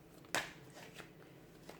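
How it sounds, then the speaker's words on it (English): A brief riffling burst of tarot cards being shuffled, one crisp flurry followed by a few faint taps in a quiet room. "give the cards a shuffle"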